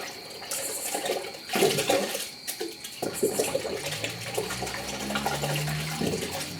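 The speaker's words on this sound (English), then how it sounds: "then take your cup and run water down the feed tube" Water runs steadily through the cup and feed tube of a spray gun being rinsed clean after spraying Lizard Skin insulation. The splashing gush is close and fairly loud, with no voices.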